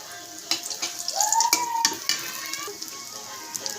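Panch phoron and dry red chillies frying in a little oil in the cleared centre of a pan of shrimp, crackling and sizzling with sharp pops and spatters, alone at moderate volume.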